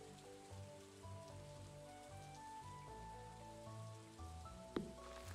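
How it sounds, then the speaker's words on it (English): Soft rain patters in the video game Stardew Valley, a faint steady wash beneath quiet background music tones, with a brief sharp tap near the end and no speech. "Is it because it's raining?"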